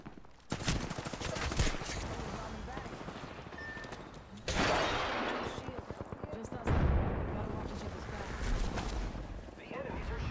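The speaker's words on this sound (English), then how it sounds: "The enemies are shooting at me." Bursts of enemy gunfire in Apex Legends rattle in rapid, repeated volleys, some close and loud, with sharp breaks between clusters of shots.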